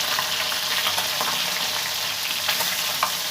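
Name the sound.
fish curry frying and being stirred in pan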